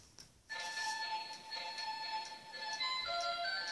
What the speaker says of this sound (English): It's my alarm clock ringing.